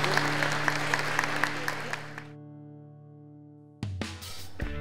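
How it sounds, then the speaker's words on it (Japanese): A ceremony audience at a company's 20th anniversary event gives a big round of applause, dense and loud for about two seconds, then fades into a sustained musical tone before a burst of clapping and sound returns. "もう一度大きな拍手をお願いいたします。"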